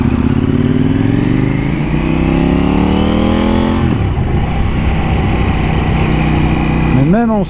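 A KTM 790 Duke motorcycle engine revs loud and close, pitch climbing steadily over several seconds before dropping to a rough idle, then a quick blip of throttle near the end; a voice talks over parts of it.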